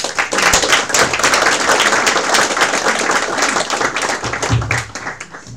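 An audience at a book presentation in a public library in Lefkada breaks into loud, dense applause that carries on steadily, then thins out toward the end.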